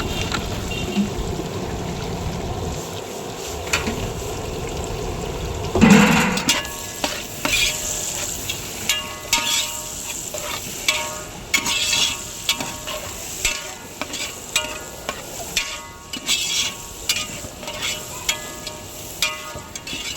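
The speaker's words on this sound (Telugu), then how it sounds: "ఆనియన్స్ని తిప్పుతూ ఉండాలి, బాగా ఫ్రై అవ్వాలి." Onions frying in a pan with spices, a steady hiss of sizzling oil broken by a burst of sizzle and then repeated scraping stir strokes at a regular pace, close and fairly loud.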